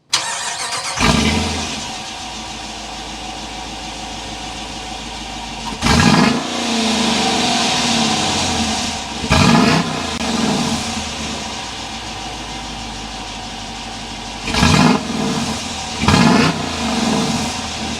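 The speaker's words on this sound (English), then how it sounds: "We need to go inside, start it up, so you can hear that exhaust note." A 2023 Dodge Durango R/T Blacktop's large Hemi V8 engine cranks and starts, then idles with a deep exhaust burble, punctuated by several sharp revs at intervals.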